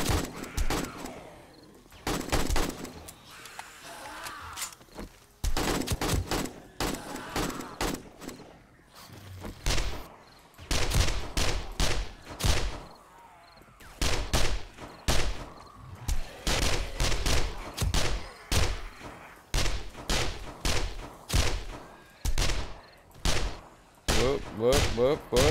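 Horde-night zombie fight in the survival game 7 Days to Die, with repeated loud gunshots, single shots and rapid bursts over a long stretch, sometimes overlapping with talk.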